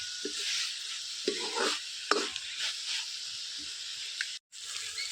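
Dried bombil fish is dry-roasted in a pan for a Malvani curry, with a continuous close hiss and sizzle broken by occasional scraping stirs and a brief cutout near the end.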